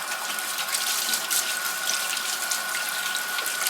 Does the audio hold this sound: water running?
yes